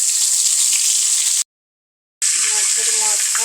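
Fish frying in hot oil give off a loud, steady sizzling hiss. It breaks off briefly in a short silence, then resumes with a voice talking faintly underneath.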